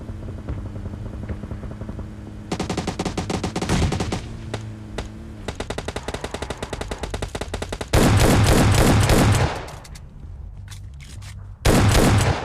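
Rapid automatic gunfire rattles through a battle royale game, with long sustained bursts and a few single shots, loud and close, breaking off briefly before another heavy volley, with no talk.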